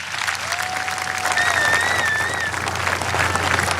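A convention crowd claps throughout a political speech, a thick steady wall of applause with a faint whistle or cheer rising over it, loud and continuous without a break.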